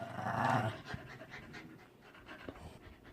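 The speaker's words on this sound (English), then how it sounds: "If the barking starts again, I'm really sorry." A dog pants quickly and heavily close by, a soft rhythmic breathing sound with a brief louder rush at the start, alone with no talk.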